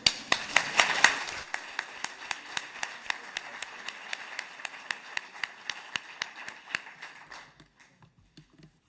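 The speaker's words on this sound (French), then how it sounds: "Nous pouvons applaudir bien fort Amélie." Audience at a stained-glass conservation graduation presentation claps, starting as a brief burst of many hands and settling into sparse, evenly spaced rhythmic claps that thin out and fade away.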